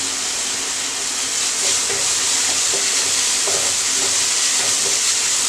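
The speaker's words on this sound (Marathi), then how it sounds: "कांदा आणि लसूणची पेस्ट चांगली फ्राय करून घ्यायची आहे" Onion and garlic paste sizzles steadily in a pan on a gas stove, a continuous close hiss broken by soft stirring scrapes, with no talking.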